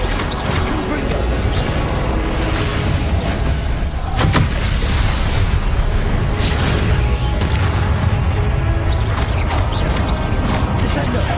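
Confringo fire-blast spell from the Hogwarts Legacy game bursts amid a constant loud wash of combat sound, with a sharp bang near the middle and rumbling impacts, a speaking voice also present.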